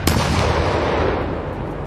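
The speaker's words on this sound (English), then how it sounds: "The operator carefully identifies the weakest point of the vehicle and releases a 5-kilogram" Deep, powerful blast from a 5-kilogram explosive charge dropped on a BMP armored vehicle, a sudden hit followed by a sustained roaring rumble, loud and distant-sounding.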